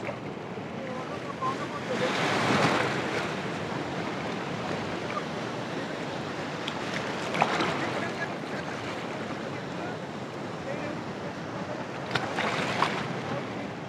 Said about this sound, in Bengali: ওই দূরে একটা ঢেউ আসছে দেখো।